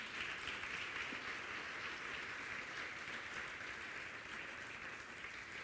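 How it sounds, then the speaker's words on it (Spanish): A church congregation gives sustained applause, a dense, even wash of clapping heard from a distance that runs steadily with no talk over it. "Denle un aplauso al Señor, por favor, Martín."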